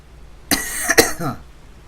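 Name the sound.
cough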